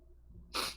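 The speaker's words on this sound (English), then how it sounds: "Bless you" After a quiet breath, a single sharp, hissy sneeze bursts out close by.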